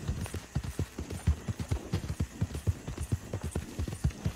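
Rhythmic clip-clop of horse hooves trotting at a steady pace in the video game Red Dead Online, close and clear, with no talking.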